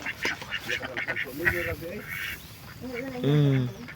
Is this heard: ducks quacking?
yes